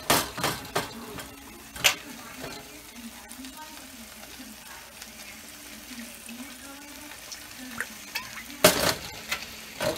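Salmon frying in avocado oil in a pan, a soft steady sizzle with a few clattering knocks of utensils at the start and near the end; a voice murmurs faintly.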